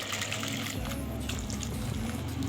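Water is poured into a jug holding leftover falsa fruit pulp and stirred, a steady close splashing and trickling that continues throughout with a low hum beneath.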